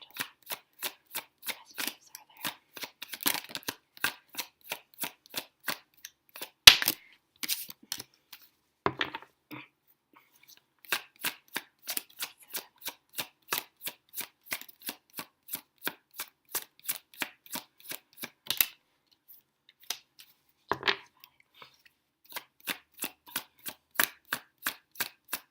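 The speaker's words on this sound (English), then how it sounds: "let's pull some cards" A tarot deck is shuffled close up in quick repeated bursts of crisp card riffles and flicks, with a few brief pauses between rounds and no talking.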